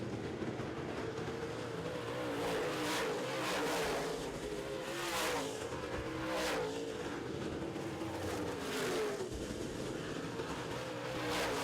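Modified race cars battle side by side in an oval-track feature race, their engines a distant, fairly faint roar that swells and fades repeatedly as the pack circles past.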